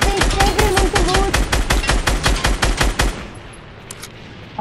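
Rapid bursts of automatic gunfire in the Fortnite video game, a dense string of loud shots for about three seconds, then a sudden drop to quiet game ambience, with a brief tonal blip near the start.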